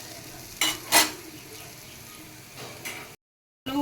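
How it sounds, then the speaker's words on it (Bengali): Lentil fritters (dal bora) fry in hot oil, a soft continuous sizzle broken by a few sharp utensil clinks and scrapes, then a brief silence before the sizzle returns. "আমি ডালের বড়াগুলো ভেজে নিলাম"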